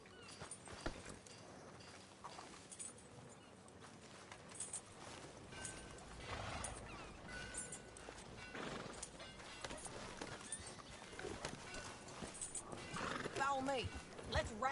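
Horse whinnies and clip-clopping hooves in the Red Dead Redemption video game, mixed with game music and ambience while characters talk over them.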